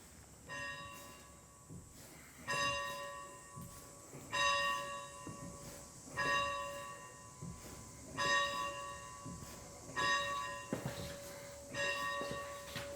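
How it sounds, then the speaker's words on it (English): A school bell rings out in slow, regular strokes, each clang ringing on and fading before the next, heard at a moderate distance with no talking. "I will go inside and I will ring the bell to start school."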